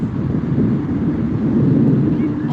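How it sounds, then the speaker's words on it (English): An Embraer 175 regional jet operated as United Express departs at night from SNA airport, a steady broadband engine roar with wind-like rush heard at a distance throughout, without pause. "There goes the United Express Embraer 175 to San Francisco."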